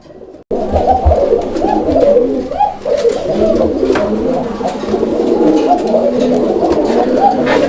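Close domestic pigeons coo steadily in breeding mood, a dense, continuous run of low throaty coos without a break after a brief quiet start.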